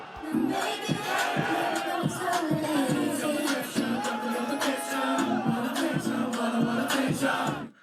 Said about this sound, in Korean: 군 장병의 날을 맞아 모처럼 바깥 나들이에 나선 이들은 걸그룹 등장에 환호성을 질렀고요.